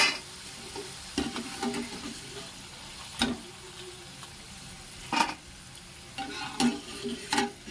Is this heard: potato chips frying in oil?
yes